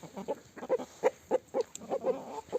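Chickens in a farm coop cluck in a steady run of short, close, moderately loud bursts, with no voices over them.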